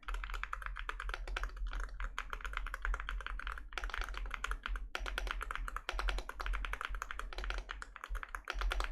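Fingers type rapidly on a computer keyboard, heard close and clear as a dense run of crisp clicking keystrokes with a couple of brief pauses, and no talking over them.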